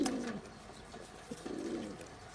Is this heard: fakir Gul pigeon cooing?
yes